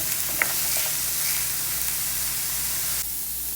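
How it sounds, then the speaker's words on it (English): Vegetables for meatless two-cheese nachos sautéing in a pan, a loud, steady hiss and sizzle close up with a brief clink early on, dropping a little in level near the end. "We're going to saute these for about 5 minutes."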